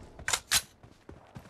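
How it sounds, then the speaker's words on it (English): Gun reload in PUBG Mobile during a team deathmatch: two sharp metallic clacks close together, followed by quieter mechanical clicks and faint background noise. "Reloading!"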